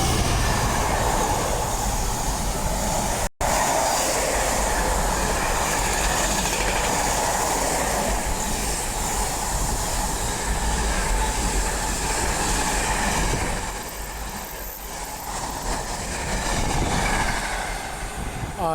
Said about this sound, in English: the next train to be coming through will be a DRS 66 running from Daventry to